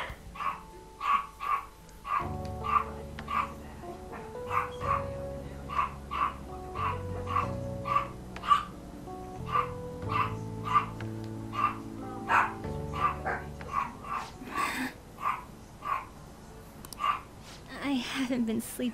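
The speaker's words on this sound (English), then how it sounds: "Bloody hell, dogs." Dogs bark repeatedly in the Persona 5 video game, sharp yaps and yips scattered through a looping background music track, with voices talking over parts of it.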